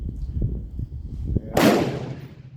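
A single sharp, loud gunshot rings out from a Sharps 45-70 rifle firing a new cast-bullet load with a cardboard wad, following a few soft handling knocks and rustles outdoors.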